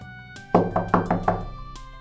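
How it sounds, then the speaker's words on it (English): Knocking on a room door indoors, a quick series of about five sharp, close raps in an even rhythm, followed by one more knock after a short pause, alone without talk. "there was a knock on the door."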